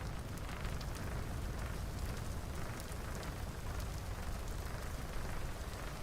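In Pennycress, a constant downpour keeps up a broad, unbroken patter of rain at an even volume for the whole stretch, with nobody talking.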